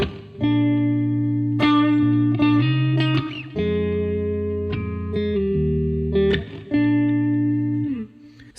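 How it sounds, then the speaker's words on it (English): A mellow, fairly standard electric guitar tone through the Guitar Rig Vintage Plex preset plays sustained chords and single notes with reverb, loud and close, without any voices. "It's a very mellow and pretty standard guitar tone,"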